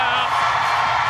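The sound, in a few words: crowd cheering for figure skating pair entering the ice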